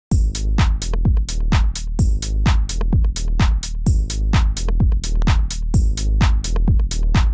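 A house bass patch built in Serum from a rounded analog saw oscillator, playing a punchy, repeating plucked bassline loud and alone alongside a driving drum beat, each note decaying quickly in a steady groove.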